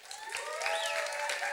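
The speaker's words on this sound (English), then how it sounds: "let's clap as loud as we can" An audience clapping loudly as a group, a dense continuous wash of hands, with whoops and hollers rising over it.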